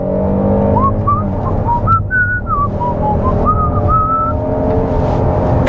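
A Kia Telluride X-Pro SUV launches from 0 to 60 on wet pavement. A loud, close engine and drivetrain whine climbs in pitch through stepped shifts over a low rumble of road and cabin noise.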